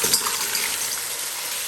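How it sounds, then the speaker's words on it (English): Two pounds of scrubbed, cleaned mussels dropped into a hot pan, a bright close sizzle with a clattering of shells at the start, then a steady hiss. "So now we're going to throw in 2 pounds of mussels."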